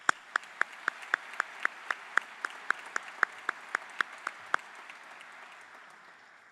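An audience claps at a high school graduation ceremony, heard as steady, evenly spaced claps, roughly twenty of them, that fade slightly toward the end with no talk over them.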